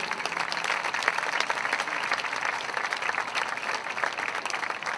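Sustained audience applause at a dance competition evening, dense and even clapping from a large crowd that holds at a lively level throughout, with no voices over it.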